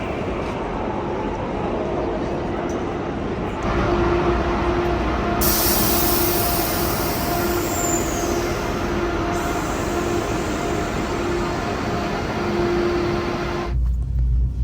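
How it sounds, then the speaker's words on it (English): A Deutsche Bahn ICE high-speed train pulls into a station platform, a steady rumble with rising hiss and a brief whine from the wheels as it slows, continuous and fairly close for most of the stretch before cutting off. "So this is my train"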